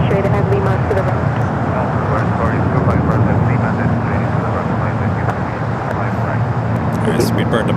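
Airliner at LAX, a loud, steady roar of jet engines that stays close and constant throughout, with radio-style voices talking over it.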